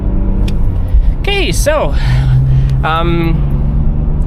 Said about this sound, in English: The noise, the sound of the engine. You can hear the 6-cylinder.